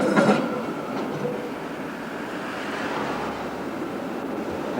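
A Brussels tram rumbles along the rails nearby with a steady, continuous roll and faint clatter, no voices.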